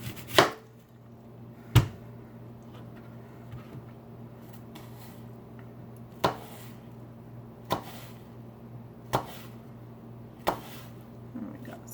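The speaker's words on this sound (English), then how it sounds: "apples are a little harder to cut with a butter knife, so I also brought the sharper knife over" A sharp knife cuts through an apple, giving about eight distinct crisp chops spaced a second or more apart over a low steady hum.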